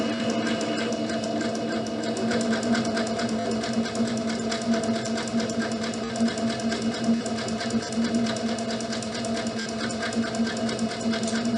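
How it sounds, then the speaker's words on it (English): A sewing machine stitching along the fabric edges of a scrunchie, a loud, steady rapid mechanical chatter that runs without pause from start to finish. "you just kind of want to guide it and let the sewing machine do its job"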